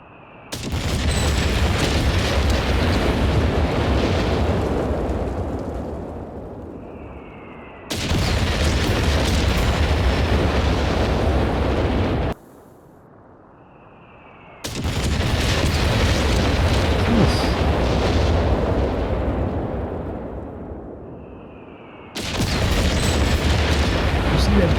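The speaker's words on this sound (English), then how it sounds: "Naval bombardment dropped right on this." Naval bombardment shells explode in Company of Heroes 3, a run of heavy, deep booming blasts that rumble loudly and nearly nonstop, broken by short quiet gaps between the waves of impacts.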